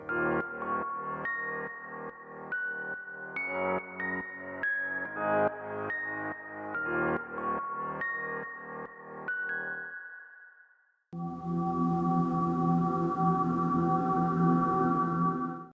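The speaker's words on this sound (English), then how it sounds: "I added in a Rhodes one-shot and just had it play those top notes that my other piano was playing" Future-style beat built in Maschine, with a piano part doubled on its top notes by a Rhodes one-shot, a busy run of bright keyboard chords over drums, a short drop near the end, then a fuller sustained swell, no voices.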